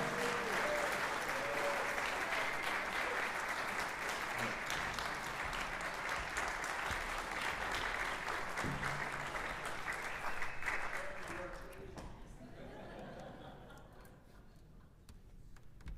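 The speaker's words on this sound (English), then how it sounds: "Let's give a warm round of applause for Bruce" A concert audience at a piano foundation recital gives a warm, sustained round of applause for a volunteer called to the stage. Dense, even clapping runs for about eleven seconds, then fades and thins into quieter scattered claps.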